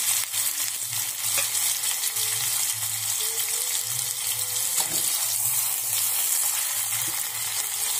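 Onion and tomato sizzle steadily in hot oil, a constant crackling hiss with occasional soft stirring bumps from a pan nearby.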